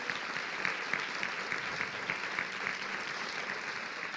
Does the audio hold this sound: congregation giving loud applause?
yes